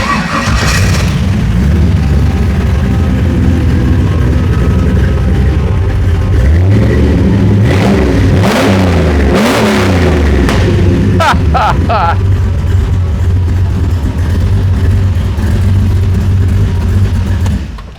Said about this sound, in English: Why don't we start it up?